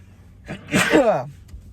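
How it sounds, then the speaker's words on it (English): A single sharp sneeze with a quick breathy intake just before it, close and loud, then quiet. "I have to sneeze."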